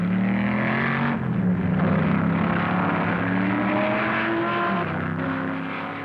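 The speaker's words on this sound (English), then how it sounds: "Up front, the Hill-Bonnier 4-liter Ferrari has taken the lead from Surtees late in the afternoon." The Hill-Bonnier 4-liter Ferrari race car at the 1964 Twelve Hours of Sebring drones loudly and steadily, its engine pitch shifting up and down as it runs, heard on an old, muffled recording.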